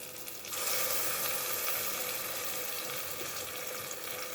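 Water from a rinsed grinder jar pours into a pan of Kongu-style country tomato curry, starting with a sudden steady rushing hiss and sizzle that continues evenly, close by.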